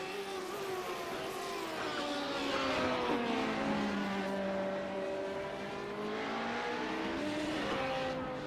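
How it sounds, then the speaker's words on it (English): Multi-class NASCAR race cars lapping Laguna Seca in iRacing, a dense loud roar of several engines with rising and falling pitch sweeps as cars pass, continuous throughout with no talk. "of course, cars on the racetrack"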